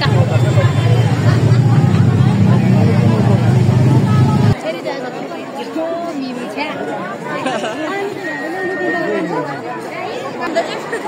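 A large crowd chatters at a monastery in Kathmandu, a dense, continuous babble of many voices close around, with a heavy low rumble filling the first few seconds before the hubbub carries on more openly.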